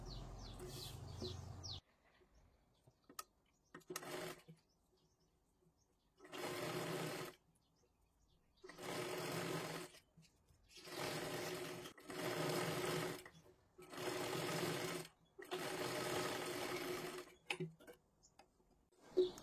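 A sewing machine stitches saree blouse fabric for a kathpadar-style blouse, its close, steady whir running in six separate bursts of a second or two each, with quiet pauses and light handling noises between them.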